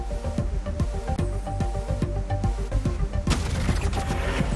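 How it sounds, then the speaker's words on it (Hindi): Fireworks set off by supporters at a street welcome for a politician in Amritsar, with rapid crackling bursts in a dense, continuous barrage that grows louder and fuller toward the end. "समर्थकों ने जमकर आतिशबाजी की"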